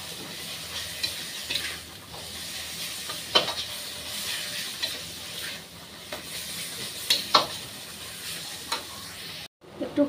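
Ground spices, turmeric, chili powder, cumin and coriander, sizzle in a hot pan with a soft, steady hiss, broken by occasional sharp clinks and scrapes of stirring, close and without talk.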